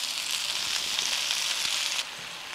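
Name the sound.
mango pieces stir frying in spice oil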